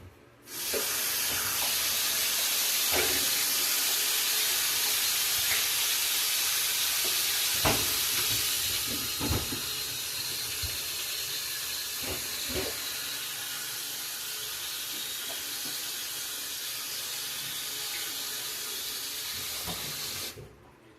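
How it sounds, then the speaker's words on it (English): Water from a kitchen tap runs in a loud, steady hiss while hands are washed beneath it, the flow splashing unevenly for about twenty seconds before cutting off abruptly. "Now I'm going to wash my hands for a second."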